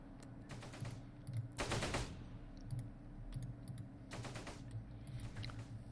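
Bursts of rapid gunfire from a Close Combat World War II strategy game battle involving mortar half-tracks crackle in short rattling volleys over a steady low hum, two longer bursts standing out, all fairly faint.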